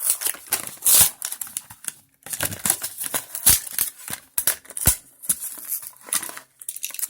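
A Hot Wheels '70 Chevelle SS toy car being pulled from its blister-card packaging: close, busy crinkling and crackling of plastic and cardboard in irregular bursts, with sharp snaps and tears, no voices.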